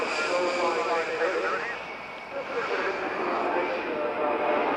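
A jet aircraft roars steadily as it makes a low, smooth pass at the 1989 Ulster Airshow in Newtownards, its engine noise loud and continuous with a slight dip midway.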